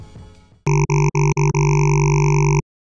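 Deep synth bass from the Harmor synthesizer in FL Studio, pitch set all the way down: a rich buzzing tone that stutters in four short choppy bursts, then holds one long sustained note before cutting off, heard alone.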